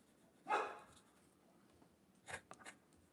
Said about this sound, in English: My dog's not done